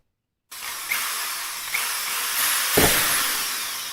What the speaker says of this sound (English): Now let me get my drill.